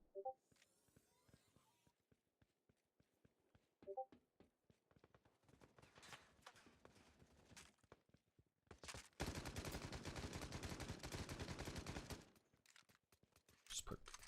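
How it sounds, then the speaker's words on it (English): Sustained machine gun fire in the shooter Battle Prime, a loud dense burst running several seconds after scattered earlier shots, with a player talking intermittently around it. "Telling you, man, that machine gun."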